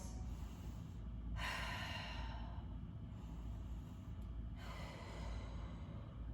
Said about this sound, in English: Let's take 2 more breaths.